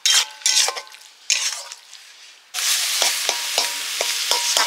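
Water lily stems with mustard paste cook in a pan, with bursts of sizzling and spoon scrapes, a brief quiet gap, then a steady sizzle broken by sharp clinks of stirring.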